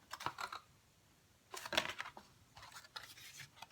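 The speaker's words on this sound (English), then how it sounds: "you're going to cut again on the scored lines and the folded lines to the horizontal fold, and then you're going to cut the square off like this" Scissors snip through scored and folded paper or cardstock for a drawer box, a few quiet, separate crisp cuts in bursts with short pauses between them.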